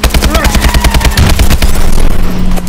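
Loud, rapid bursts of gunfire and booming vehicle explosions in Call of Duty: Advanced Warfare pile up in a dense, chaotic barrage that ends in a sustained rumble.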